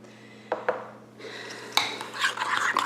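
Salt being stirred into a bean dip mixture, a few soft scrapes and taps of a utensil against the bowl followed by steady rubbing and clinking of the spoon through the thick dip, close and moderately quiet.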